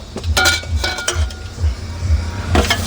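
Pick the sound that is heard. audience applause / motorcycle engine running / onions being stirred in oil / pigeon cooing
onions being stirred in oil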